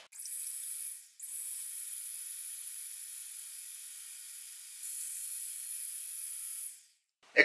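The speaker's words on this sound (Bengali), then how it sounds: "এখন ডিমের সাদা অংশটাকে একটা ইলেকট্রিক ব্যাটারের মাধ্যমে আমি বেট করে নিব খুব ভালোভাবে।" An electric beater whipping egg whites for a soft butter cake gives a thin, high whirring whine that stops briefly near the start, then runs steadily, grows slightly louder partway through, and cuts off near the end.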